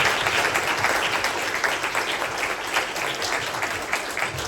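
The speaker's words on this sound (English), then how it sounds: "Everyone give me a round of applause for Senator Maria Fernanda Cabal." Audience at a CPAC conservative political conference applauding a Colombian senator, a steady, even roar of many hands clapping that holds at full strength for about four and a half seconds without speech.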